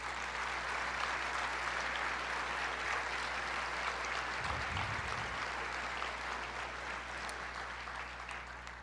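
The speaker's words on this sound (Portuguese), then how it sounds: "Vamos dar uma salva de palmas para as mulheres?" A live audience applauds steadily in honour of the women at a Portuguese-language church talk on family and children, a dense, even wash of clapping that holds for the whole stretch with no voices over it.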